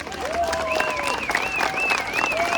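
A crowd at a strike rally applauds in a steady wash of clapping, with voices and shouted calls rising and falling above it.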